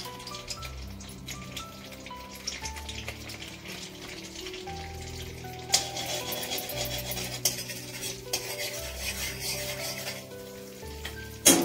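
Butter frying in a pan while being stirred for a macaroni dish, a soft sizzle with scraping and rubbing of the spoon, moderately quiet with a few sharper clinks.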